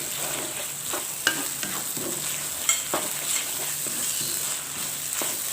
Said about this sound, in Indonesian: Jadi kita gosok ya hingga benar-benar keluar aromanya dan benar-benar matang dengan api sedang saja